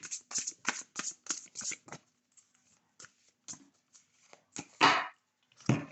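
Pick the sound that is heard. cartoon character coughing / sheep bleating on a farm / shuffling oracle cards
shuffling oracle cards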